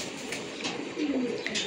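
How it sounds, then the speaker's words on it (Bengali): A small flock of about forty breeder and racing pigeons kept at a home loft coos softly, with low, murmuring calls rising and falling over a steady background hum, and no talking. "অল্প সংখ্যক কবুতর আছে"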